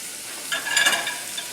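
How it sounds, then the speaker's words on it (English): Thyme and chopped vegetables go into butter in a pan where Italian sausage has been cooking, producing a steady close sizzle that swells briefly as the ingredients hit the fat. "Just quickly put the thyme and all the vegetables in there with the butter."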